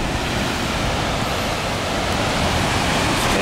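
Sea surge washes steadily through a rock pool at the Pancake Rocks on a windy coast, a loud, continuous roar of churning water and surf with wind noise over it.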